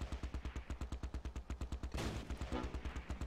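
Rapid bursts of mortar and gunfire from the Close Combat Last Stand Arnhem battle game, a steady fast rhythm of sharp shots with a dense crashing volley midway, loud and close, no talk.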